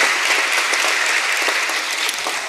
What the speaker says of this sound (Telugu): చప్పట్లు కూడా దేవునికి స్తోత్రించాలి.